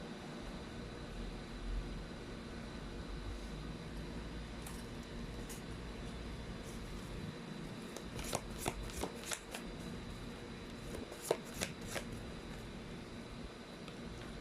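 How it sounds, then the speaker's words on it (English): Tarot cards being shuffled, a run of quick riffling bursts near the end over a steady low background hum, close and fairly soft, with no talking. "Oh my gosh, you saw me shuffle?"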